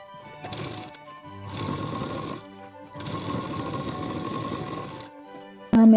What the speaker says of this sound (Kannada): ಸ್ಲೀವ್ ಕೂಡ ಹಾಗೇನೆ ಫಸ್ಟ್ ಒಂದು ಫೋಲ್ಡ್ ಮಾಡ್ಕೊಂಡು ಸ್ಟಿಚ್ ಮಾಡ್ಕೊಳ್ಳೋಣ.